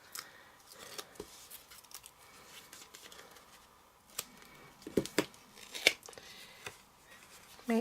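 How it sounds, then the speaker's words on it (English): Backing paper being peeled off a handmade gift card, scattered faint rustles, crinkles and small taps spread across the clip, close and quiet. "and remove the backing paper"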